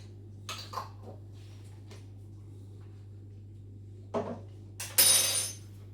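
A spoon scrapes and clinks against a jar while horseradish is spooned onto cheese outdoors at camp, giving a few soft taps early on, then a sharper metallic clatter and scrape near the end.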